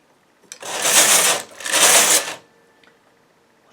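Knitting machine carriage sliding across the bed for two rows, two loud rasping sweeps of about a second each separated by a short pause, with faint clicks before and after.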